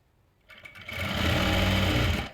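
A sewing machine stitches a dhoti salwar, starting after a quiet lead-in and running steadily with a loud, continuous whirr through to the end.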